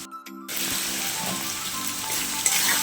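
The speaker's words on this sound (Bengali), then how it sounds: "এই যে মাংসটা একটু ভাজা ভাজা হয়ে তেলটা ছেড়ে গেল" Chicken pieces frying in hot oil for a chicken chorchori, a steady bright sizzle that starts abruptly after a moment of quiet and stays dense and even throughout, close up.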